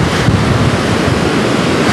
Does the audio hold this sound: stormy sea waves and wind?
yes